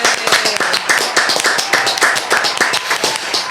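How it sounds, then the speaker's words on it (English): Audience applause at a live talk-show taping: crisp, closely spaced hand claps in a quick, fairly even rhythm, loud and near, with little else behind them. "Round of applause to our beautiful audience."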